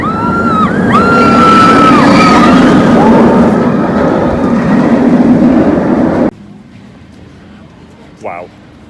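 The Galactica roller coaster at Alton Towers runs with a loud rumbling roar and whining tones, cutting off abruptly to quiet, followed by a brief electronic sweep.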